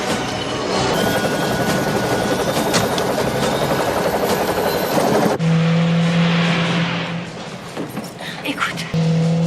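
A helicopter approaches outdoors with a steady broadband rotor roar, loud and continuous, joined midway by a low steady hum as the sound grows nearer and fuller.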